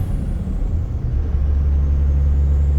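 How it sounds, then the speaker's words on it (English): A 2nd gen Cummins diesel truck fitted with a short shifter, cruising with a loud, steady low engine drone and road rumble as it moves into fifth gear, the pitch dipping briefly through the shift. "And here is a fifth gear shift."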